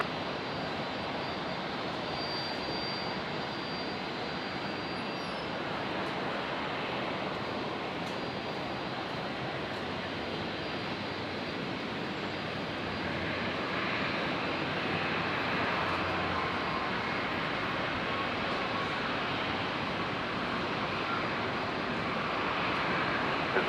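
A Virgin passenger jet takes off from Brisbane airport, its engines a steady, broad roar that holds for the whole stretch and swells slightly toward the end, with no talk over it.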